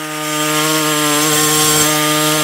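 A saw cuts through aluminum clamped in a vise, giving a steady, loud, harmonic-rich whine with strong tonal bands that runs continuously without pause.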